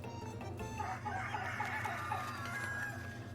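Hens clucking and a rooster crowing in the video game Little Goody Two Shoes, a busy flock chattering over a steady low hum, moderately loud.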